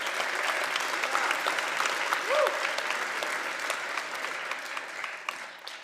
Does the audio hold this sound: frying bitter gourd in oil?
no